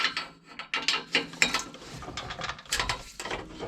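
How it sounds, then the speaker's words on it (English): Ratchet wrench loosening nuts on a BMW E90-series driveline, bursts of rapid pawl clicking in short uneven strokes, close and fairly loud, no speech. "One might say that this ratchet really drives me nuts."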